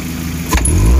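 Car engine with a freshly replaced spark plug, idling steadily and then blipped into a sudden rev that swells in low rumble and stays raised to the end, close and loud.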